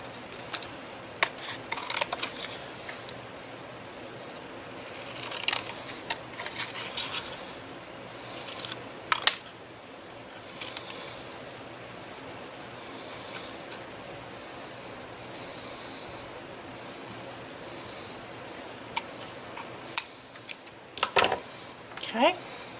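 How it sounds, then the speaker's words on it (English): Scissors trimming patterned paper for a fall/Halloween mini album, bursts of close snipping and rustling with quieter pauses between cuts. "I'm just going to flip it over and trim out around it"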